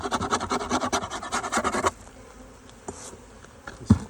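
Honeybees in an open hive hum and buzz busily up close, a dense droning swarm sound that drops away after a couple of seconds, leaving faint scraping and scattered buzzes.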